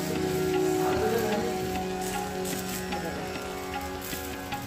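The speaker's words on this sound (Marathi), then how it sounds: "आता मी डोसे बनवायला सुरुवात केलेली आहे. माझ्या रेग्युलर चपाती भाकरी बनवच्या तव्यावरतीच मी डोसे उत्तापे बनवत आहे." A dosa sizzles on an ordinary chapati and bhakri griddle, a steady close crackling hiss that stays fairly loud throughout and eases slightly toward the end.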